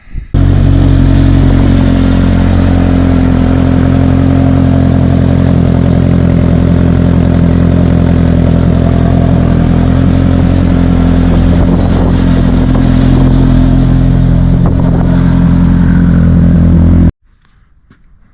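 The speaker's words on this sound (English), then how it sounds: "Some of the guys may be wondering what this exhaust sounds like." A loud Polaris RZR Pro R side-by-side UTV engine idles with a deep, throaty exhaust rumble, holding steady for a long stretch before cutting off abruptly near the end.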